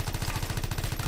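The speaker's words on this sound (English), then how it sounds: "a 3-shot grenade launcher that each shot explodes on impact, and it's like a huge damage area explosion" Rapid repeated booming blasts from a three-shot grenade launcher in the game Anthem, each round exploding on impact, fired in a dense regular burst of low thuds with no pauses.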